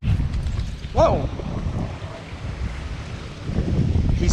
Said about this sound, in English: Still pretty windy, but the wind is laying down just a little bit right now.